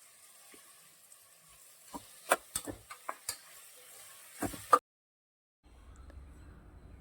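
Tomatoes drop into a pan of frying potatoes and peas with a scatter of light taps and clatters, some sharper than others, set against a quiet background. A brief silence follows, then a low, soft hum.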